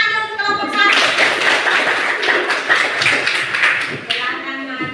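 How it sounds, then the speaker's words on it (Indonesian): A classroom group of students and teachers bursts into sustained applause for a student group, dense clapping lasting several seconds before tapering off. "Silakan dan tepuk tangan dulu untuk kelompok 1."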